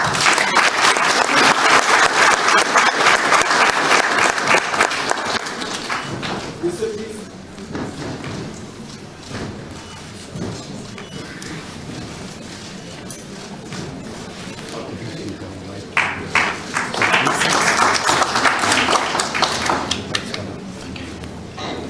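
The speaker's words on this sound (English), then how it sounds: "Let's have a round of applause." An audience at a formal energy ministry handover event bursts into loud applause, fades under a speaker's voice, then swells into a second round of clapping near the end.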